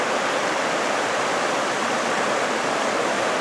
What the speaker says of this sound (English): The water is deep, running swift, and ice cold.